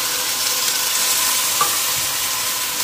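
Menudo meat and potatoes being stirred in a pot, with a steady hissing sizzle and faint scraping of the spoon, fairly loud and continuous with no talk.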